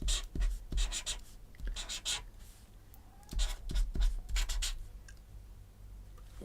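Pen or pencil writing by hand in short bursts of scratchy strokes, close and moderately loud, with brief pauses between groups of strokes and no talking.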